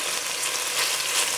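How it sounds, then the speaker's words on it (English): A batch of beef browns in a pan for Indonesian beef stew, giving a steady, close, bright sizzle of frying meat that carries on evenly without any talk. "let's brown the second batch"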